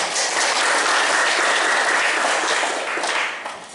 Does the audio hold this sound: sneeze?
no